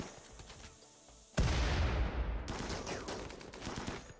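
Gunfire from turrets and colonists in RimWorld, a sudden loud burst of rapid automatic shots that keeps rattling on after the first blast.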